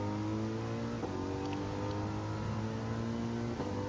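Mercedes race car engine in Gran Turismo 7 or Forza Motorsport, a steady loud drone with sustained harmonic tones and brief shifts around the first and fourth seconds, no talk.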